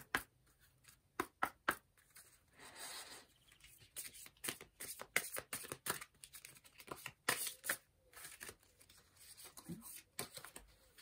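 Tarot cards shuffled by hand, a close, quiet run of crisp riffling snaps and soft slides that come in bursts with short pauses, the only sound present.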